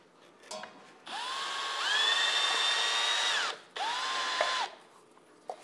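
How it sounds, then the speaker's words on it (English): A power drill drives screws into a taxidermy form, giving two long whining runs with rising motor pitch separated by a short pause, close and loud, with small clicks before and after. "while you're putting these screws in, they have to go in on an angle"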